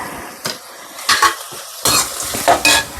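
A spoon stirs and sautés curry leaves and masala in a hot pan, making sharp metallic scrapes in short irregular bursts over a low background sizzle, close and unaccompanied by speech.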